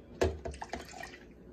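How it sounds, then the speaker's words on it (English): Milk poured into a cup gives a short close splash and a few gurgling drips that trail off quickly, with no talking. "Pour your milk in a cup."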